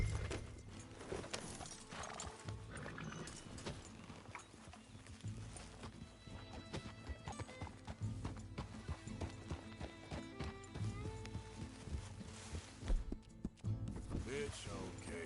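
Horse hooves clip-clop in Red Dead Redemption 2, a fairly close, uneven trot over a busy game soundscape, with voices talking over it and a whinny in places.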